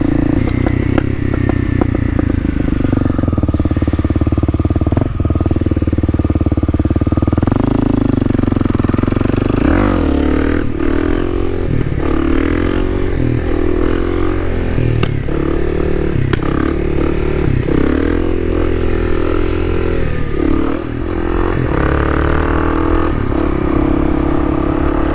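Honda Grom motorcycle riding through urban downtown streets, a steady loud engine drone with rattling clatter and shifting revs throughout, close and continuous with no talk.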